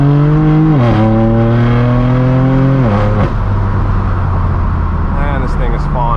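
Straight-piped BMW M4 F82 accelerating hard and close, a loud, raspy exhaust climbing through the revs with abrupt drops at two gear shifts, then rising again.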